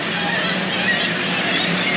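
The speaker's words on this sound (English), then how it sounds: "The seagulls all nest here and they feast on" Seabirds on a coastal spit at Homer, Alaska, a dense chorus of honking, squawking calls blending with wind and surf, steady and loud throughout with no clear talking.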